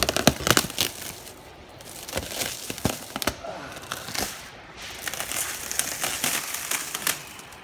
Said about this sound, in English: I'm going to unwrap the top